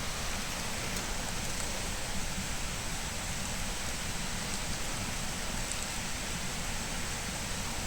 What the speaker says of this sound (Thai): ฝนเริ่มตกแล้ว